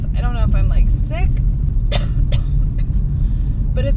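A person with a wheezy cough that has lasted since the fires coughs in short, harsh bursts, mixed in with talking over a steady low background rumble.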